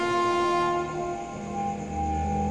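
A train horn sounds as a sustained, multi-tone blast with a rumbling passing train beneath it in a horror audio story, loud and steady before fading slightly, then swelling again. No voices are heard.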